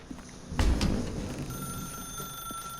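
A telephone rings in The Stanley Parable video game: a muffled thump comes first, then a steady electronic ring that holds as a sustained tone, fairly faint and alone.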